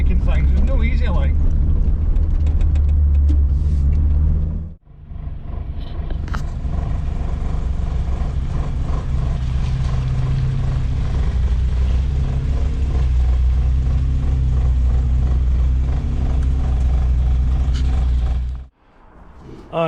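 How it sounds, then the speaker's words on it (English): A Vauxhall Nova's engine rumbles steadily while driving, the throttle blipped to keep it running, with a brief dip in the middle and again near the end; loud and close throughout, with faint talk in the background. "Like blipping the throttle to keep it going."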